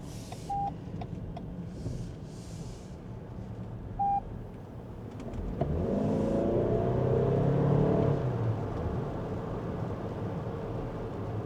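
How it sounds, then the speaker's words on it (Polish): A Lexus NX 450h+ AWD plug-in hybrid SUV accelerates at full throttle, its engine and drivetrain rising into a steady, moderately loud hum that swells and holds. Faint beeps sound early on, before the engine comes in. "wcisnę pedał do podłogi gazu"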